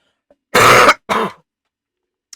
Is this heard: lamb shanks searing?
no